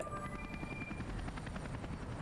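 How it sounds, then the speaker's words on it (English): A Mi-10 cargo helicopter in the city-building game Workers & Resources: Soviet Republic gives a continuous, rhythmic rotor thump, steady and moderately close, with no talking. "Let's go ahead and get one MI10."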